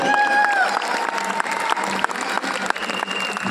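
An audience claps with excitement in a continuous, fairly close patter of many hands, with steady tonal sounds ringing faintly underneath.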